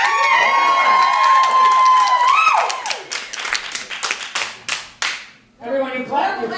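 An audience at a burlesque show at Gallery5 in Richmond, Virginia claps loudly in a dense burst of applause that thins into scattered claps, while a voice rings out over the start.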